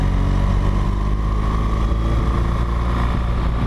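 A motorcycle engine drones steadily while riding along a road, a loud continuous close hum with wind rumble and no speech.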